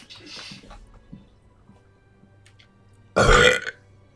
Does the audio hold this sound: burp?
yes